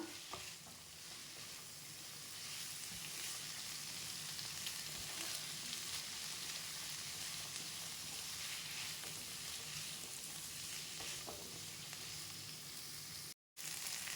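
Carrots and beans sautéing in a pan for masala dosa, a steady soft sizzle with occasional stirring scrapes throughout, close and continuous, with no talking.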